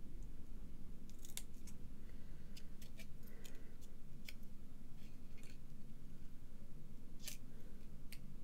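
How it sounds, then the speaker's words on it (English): Crisp little snips from small scissors cutting for a handmade card, a few quick cuts clustered together then scattered single snips, close up over a steady low background hum. "I'm going to use my little scissors."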